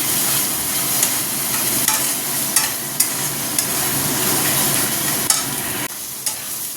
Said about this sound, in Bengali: লঙ্কা গুঁড়ো, হলুদ গুঁড়ো, নুন দিয়ে ভালো করে কষিয়ে নিতে হবে